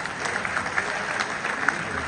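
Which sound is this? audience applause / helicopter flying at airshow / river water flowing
audience applause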